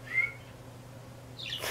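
Pet bird chirping indoors: a short clear whistled chirp near the start, then a brighter burst of chirps at the end, close and moderately loud over a low steady hum.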